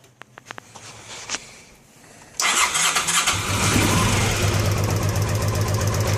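A Honda Pacific Coast PC800 motorcycle, already warm, cranks after a few faint ticks, then catches and runs loud and steady with a rough, throbbing idle.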